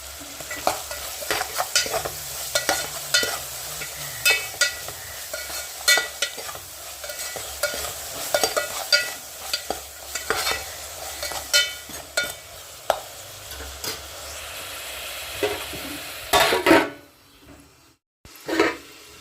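Upma ingredients with turmeric and salt frying in a pan while a spoon stirs and scrapes repeatedly, rhythmic knocks over a steady sizzle, ending in a brief quiet stretch.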